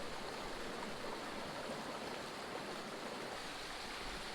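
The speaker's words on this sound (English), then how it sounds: "Just arrived at my first stream of the day" A small stream flows beside a coastal hiking path in South West England, a steady broad hiss of running water heard alone and close.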